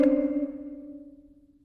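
A dissonant user-interface alert tone sounding a wrong outcome: a single bright struck chime with two clashing sustained pitches, loud at the onset and slowly decaying over about a second and a half, alone with no talk.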